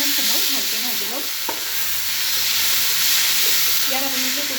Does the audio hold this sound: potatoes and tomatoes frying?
yes